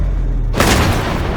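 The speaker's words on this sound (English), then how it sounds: "The Duke of York opens fire with a full broadside." A heavy battleship broadside from HMS Duke of York erupts suddenly after a quiet moment, a loud deep boom that rolls on as a sustained rumbling roar.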